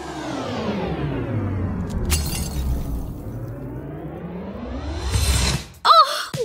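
Glass from a mirror shatters in a cartoon-style scene, a bright crashing burst near the end after long sweeping whooshing tones, followed by a short vocal gasp.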